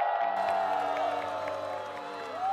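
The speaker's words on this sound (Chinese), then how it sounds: "来，再次把欢呼掌声送给我们四位队长" A crowd cheers and applauds for four team captains at a televised street dance competition, a steady wash of whoops and clapping under tonal sound that fades slightly toward the end.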